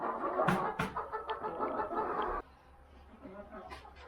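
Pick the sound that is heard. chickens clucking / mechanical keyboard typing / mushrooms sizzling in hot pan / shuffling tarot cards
chickens clucking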